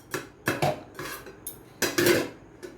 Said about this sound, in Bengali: কড়াইয়ের ঢাকনাটা খুলে